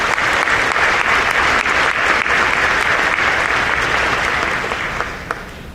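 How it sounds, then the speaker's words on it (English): Loud, sustained applause at a school class induction ceremony fills the room evenly, then begins to fade slightly toward the end. "A round of applause for that."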